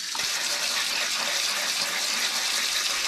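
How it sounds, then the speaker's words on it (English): Freshly blanched okra rinsed under cold running tap water in a kitchen, a steady, continuous splashing gush that holds at an even level throughout with no talk. "I'm gonna really quickly rinse it with cold water"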